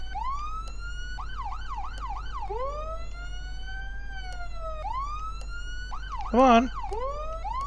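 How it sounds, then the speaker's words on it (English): A police siren in the Flashing Lights game cycles through wail and yelp patterns, loud and close over a steady engine hum, with a brief horn-like burst near the end and a voice speaking briefly. "Try to turn off siren."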